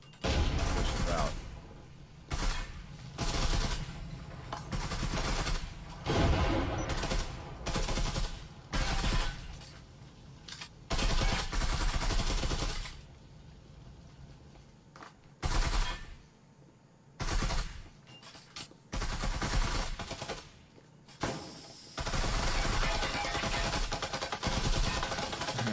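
Rapid gunfire bursts from the VR shooter Breachers in a competitive match, magazine-dumping volleys and chaotic shots coming loud and choppy, with brief pauses between bursts.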